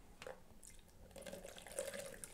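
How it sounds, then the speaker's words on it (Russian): Water pours from a kettle spout into a cup, a faint, steady trickle with small splashes and gurgles that grow slightly louder toward the end, with no voices. "Посмотрим, как большой объем воды будет протекать через носик."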